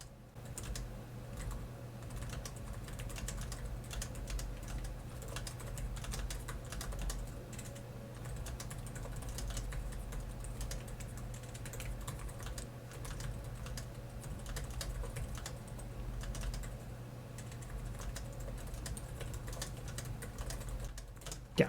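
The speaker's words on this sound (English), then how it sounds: "It's such a nice typing experience." Steady, rapid keystrokes on a 2025 Lenovo ThinkPad X1 Gen 13 Aura Edition 14-inch laptop keyboard, soft close clicks tapping continuously for about twenty seconds over a low background hum, with no talking.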